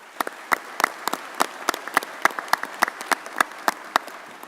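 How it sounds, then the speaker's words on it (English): Scattered audience applause at a law enforcement commission meeting, with distinct individual claps in an uneven rhythm rather than a dense roar, moderately near and alone without talk. "And again, a round of applause for them."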